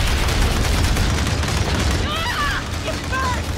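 Grenade blast and sustained gunfire from a squad fighting off an alien attack in the game Aliens: Dark Descent, a dense, loud wall of booming shots and rumble with brief high electronic chirps near the end.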